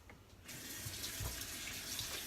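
Tap water running into a kitchen sink while hands are rinsed, a steady close rush that starts abruptly and continues alone, with no talking.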